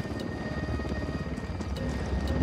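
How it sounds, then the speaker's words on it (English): Helicopter approaching in the Ghost Recon Wildlands video game, a steady dense rotor rumble with continuous low chopping throughout, fairly loud and close, with no one talking. "Helicopter incoming."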